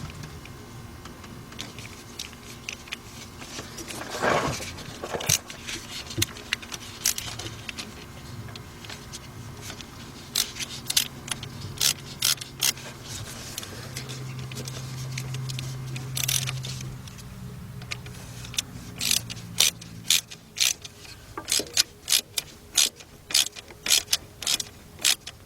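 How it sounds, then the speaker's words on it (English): A stubby ratchet clicks in quick bursts while turning a 5/16 bolt on a coolant pipe clamp of a 1996 Dodge Intrepid, sharp close ticks coming in irregular runs with short pauses, some faint clanks between. "A little stubby ratchet."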